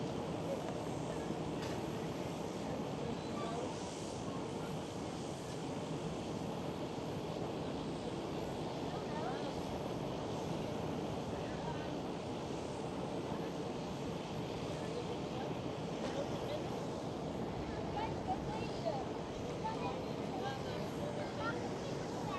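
A green Transavia Boeing 737 lines up on the runway at Amsterdam Schiphol, its jet engines giving a steady, distant broadband roar that holds evenly throughout.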